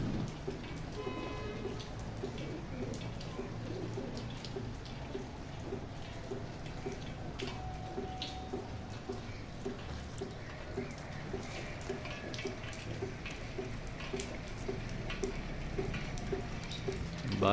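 Rain falls steadily on pigeons spreading their wings to bathe, a dense, even patter of drops with small ticking hits, moderately close and continuous, with no talk over it.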